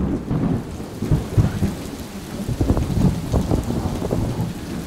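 Heavy rain pours steadily while deep thunder rumbles and rolls through, loud and close, with no voices, aboard a sailboat.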